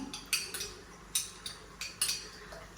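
Salmon salad being tossed with sauce in a bowl, giving a series of light utensil clinks and scrapes at irregular intervals, close and fairly quiet with no talking.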